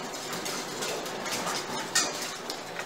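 A cornstarch and water slurry is stirred into sauce in a saucepan, heard as close, light clinking and scraping of a utensil against the pan over a soft hiss, with one sharper tap near the middle.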